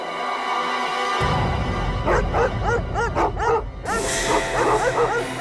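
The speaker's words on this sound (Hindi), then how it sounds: "कुत्तों के भौंकने की आवाज। पीछे की तरफ से आ रही है।" Several dogs bark and yip repeatedly in an irregular, excited chorus over a low steady rumble, fairly close and loud.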